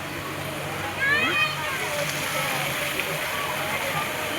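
Fountain water splashing steadily at an ISKCON temple, a constant rushing spatter with someone speaking over it.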